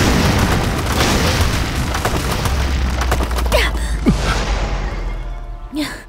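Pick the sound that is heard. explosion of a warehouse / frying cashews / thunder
explosion of a warehouse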